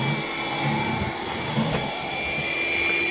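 Household vacuum cleaner running steadily on a hard floor while picking up a leaf, a constant close whine and broadband rush with slight suction changes throughout, no talk.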